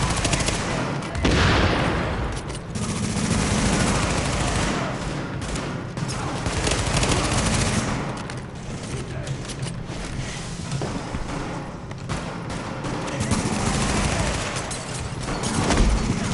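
Sustained automatic gunfire from the video game The Division: dense, loud bursts and rapid volleys that continue almost without pause, with a heavy low rumble beneath the shots.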